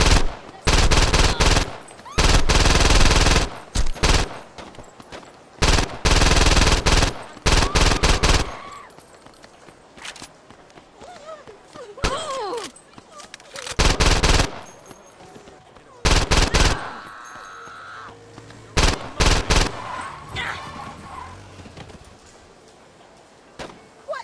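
Repeated bursts of rapid machine gun fire in Saints Row 2, loud and close, arriving in several long volleys separated by short pauses, with game effects and a voice heard faintly between bursts.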